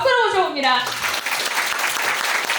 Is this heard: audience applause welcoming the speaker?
yes